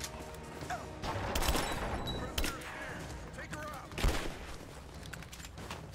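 Machine gun fire in Rise of the Tomb Raider: short bursts of rapid gunshots crackle in clusters, fairly faint, amid combat noise and impacts, with a voice talking intermittently.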